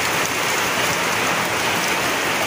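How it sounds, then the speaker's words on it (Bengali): Heavy downpour at night pours steadily, a dense, constant hiss of drops on surfaces with no pauses and no voices. "ধুমা কাটা বৃষ্টি হচ্ছে, গেট বন্ধ করতে পারিনি, এত জোর বৃষ্টি।"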